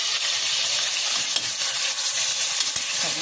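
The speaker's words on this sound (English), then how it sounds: "Okay, guys, I have enough oil in the pot for frying." Chicken frying in a pot of hot oil, giving a steady, close crackling sizzle throughout with a few sharper pops and no talking.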